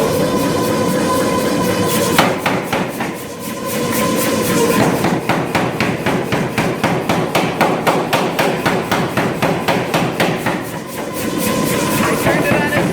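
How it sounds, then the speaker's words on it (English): A power hammer forging Damascus steel pounds in rapid, evenly spaced heavy blows, loud and metallic at close range, with a few short pauses between bursts of strikes and no talking. "he's ready to go for it on the power hammer"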